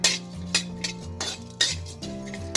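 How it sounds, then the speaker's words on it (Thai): Black pepper and crushed garlic stir-fried in oil, with a spatula striking and scraping the pan in rhythmic clanks roughly every half second, loud and close over a faint sizzle. "เดี๋ยวเราจะผัดให้หอมก่อนนะ"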